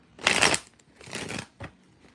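Close-up shuffling of a deck of tarot cards, with three quick bursts of rustling and riffling separated by short pauses.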